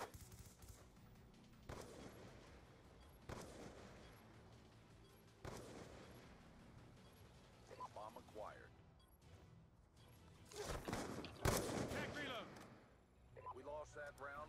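Gunfire from a first-person shooter video game cracks in a few sharp, separated bursts and a louder volley near the end, with players talking at times over the game sound.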